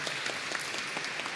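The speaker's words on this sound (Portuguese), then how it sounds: "Uma salva de palmas para ela." Audience at a lecture forum clapping for the speaker's mother, a short, steady burst of applause heard faintly and at a distance.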